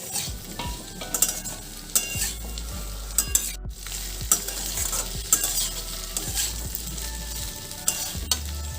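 Chopped green chillies and tomato frying in a pan, a busy close sizzle with repeated scraping strokes of a spatula at an uneven rhythm and one brief dropout, no speech.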